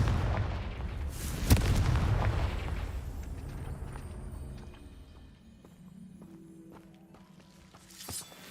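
A Confringo spell explosion in the Hogwarts Legacy video game, a loud booming blast with a sharp crack early on that rumbles and fades over several seconds, followed by quieter clinks and a small burst near the end.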